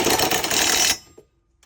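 A small rattle gun (impact wrench) drives a bolt on an RV step pivot bar, giving a loud dense burst of hammering for about a second that stops abruptly, followed by a faint clunk.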